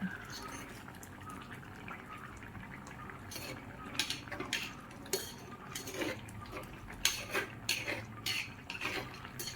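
Kerala fish curry of sardines being stirred in a pot after salt is added, with metal utensil clinks and scrapes against the vessel and wet sloshing, growing busier toward the end, with some talking in the background.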